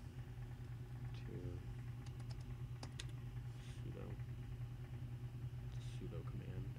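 Computer keyboard keys tapped in short bursts while typing a terminal command, faint clicks over a low steady hum.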